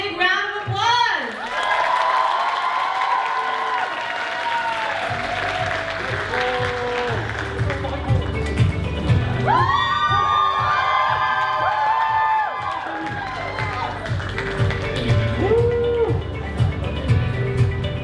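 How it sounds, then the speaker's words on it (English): Loud audience applause and cheering for contestants at the Miss Vietnam Wichita pageant, sustained throughout with shouts and whoops from a large crowd and some voices over it. "We'll give them a big round of applause"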